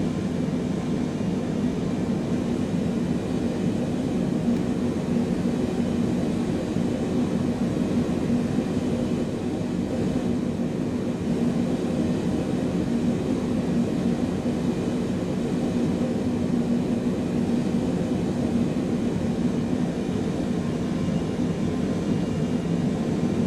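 A Boeing 777 taxis toward the runway in Microsoft Flight Simulator 2020, its engines producing a constant, steady jet hum and rumble that stays even and unbroken throughout.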